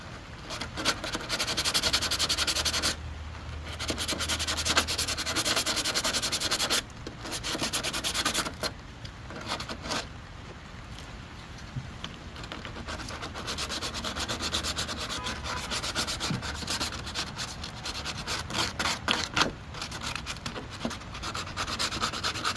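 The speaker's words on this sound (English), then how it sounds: "I'm gonna go ahead and grab some sandpaper and try doing it by hand" Someone hand-sands Bondo body filler on a car body panel with 80-grit sandpaper, making steady rhythmic scratchy rubbing strokes close up, with a few brief pauses.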